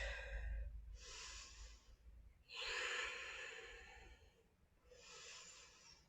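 Deep, slow breaths during a slow yoga flow, three long drawn inhale-exhale cycles, close and airy, each lasting about a second or more with quiet pauses between.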